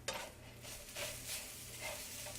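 Hash browns frying in a pan for a frittata, a steady, soft sizzle with a gentle crackling hiss that swells now and then, heard close and alone with no talking.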